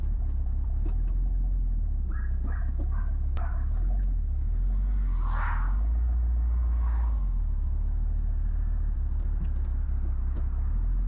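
A 1976 Ford Ranchero 500 engine idles in gear with low oil pressure, a steady loud low rumble throughout, near and continuous, with a couple of faint clanks and muffled voices briefly over it.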